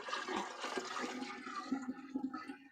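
Water poured from a stainless steel milking pail into an urn at an off-grid home, a steady splashing, gurgling flow that runs close and fairly loud for a few seconds.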